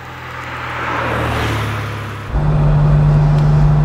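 A 1996 Porsche 993 Carrera 4 Cabriolet drives with a steady engine drone that swells, eases, then jumps to a louder, deeper note partway through, heard close with no talk.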